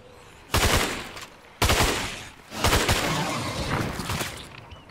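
Gunfire while shooting zombies in a video game: three loud bursts of rapid automatic fire, each a dense, clattering volley, close and dominant with short gaps between them.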